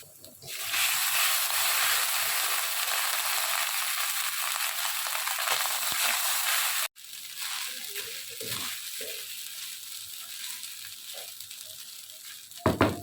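Chopped garlic and two green chillies frying in a pan for chilli beef dry, a loud steady sizzle that cuts off briefly halfway through, then resumes a little quieter with a few stirring scrapes.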